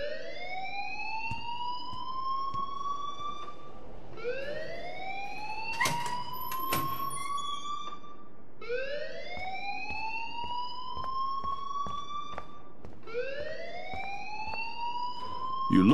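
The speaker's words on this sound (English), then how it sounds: "please turn off that alarm since that's your job." A school alarm wails in Life Is Strange, a rising electronic siren tone that sweeps up and holds, repeating four times at a steady pace, loud and alone with faint clicks scattered underneath.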